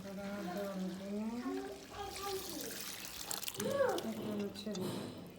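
Boiled mung dal is poured into a pan holding fried fish head in spices, making a soft wet pour beneath a person talking.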